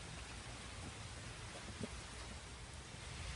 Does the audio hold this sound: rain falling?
yes